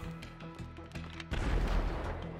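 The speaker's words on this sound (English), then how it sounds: "Fire explosion." A fiery explosion in the video game GTA Online bursts out as a loud, sustained rumbling blast that swells up after a stretch of rhythmic game sound and rolls on to the end.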